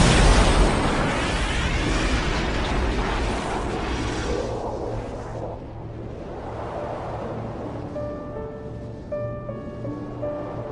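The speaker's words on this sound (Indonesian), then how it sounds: "Ledakan akan terjadi." A big explosion from an Ultraman Cosmos episode set at a space station construction site, a loud broadband roar and rumble that slowly fades into a lingering low rumble with faint tonal sounds toward the end.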